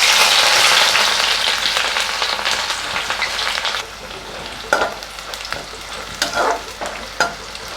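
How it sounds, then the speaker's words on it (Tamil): Sliced onions fry in hot oil for a Hyderabadi chicken biryani, starting as a loud, dense sizzle that softens partway through. Sharp scraping bursts from stirring break in near the end. "இதை கொஞ்சம் கொஞ்சமாக பொரித்து எடுக்க போகிறோம்"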